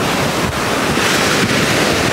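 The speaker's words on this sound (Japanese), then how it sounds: "波がめっちゃ強くて" Strong surf pounds at Sunset Beach on Oahu's North Shore, a loud, continuous roar of breaking waves mixed with gusting wind noise, with no voices.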